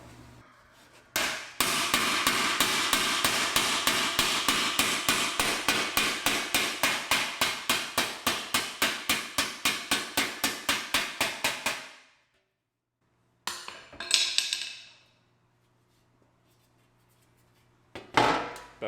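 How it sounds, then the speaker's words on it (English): Rapid, steady hammer blows flatten a piece of sheet metal for a 1971 Camaro RS transmission tunnel, about forty close, loud strikes in an even rhythm for eleven seconds, then a pause and a few scattered knocks and scrapes. "hit this down with the hammer and flatten it out"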